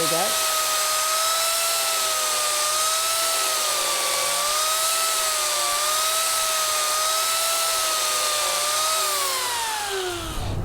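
A Mini Turbo carving blade on an angle grinder sweeps across wood, giving a loud, steady high-pitched whine with a slight wavering pitch that holds for about ten seconds before dropping away at the end.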